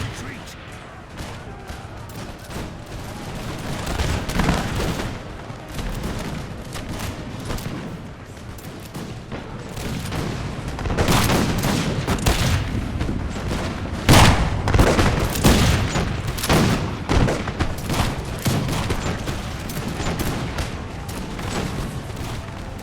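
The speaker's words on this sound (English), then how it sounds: "Basically, it's just a battle all along the line, with enemy infantry charging and the Minutemen firing." Massed musket volleys ring out from Minutemen infantry along a battle line in an American Revolution strategy game, with continuous crackling fire and heavier booms swelling and peaking midway, heard under speech.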